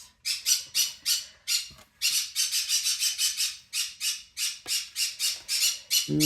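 Two pet birds squawk repeatedly in a craft room, sharp, loud bursts coming in quick rhythmic runs with short pauses, close by and with no talking.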